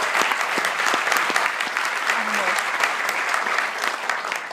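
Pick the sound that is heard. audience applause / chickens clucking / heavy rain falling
audience applause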